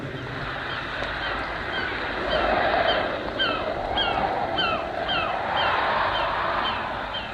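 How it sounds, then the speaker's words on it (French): Sea waves wash steadily onto a shore in a continuous broad roar, with seabird cries calling repeatedly over the surf. "regardez la mer qui accourt par la grève."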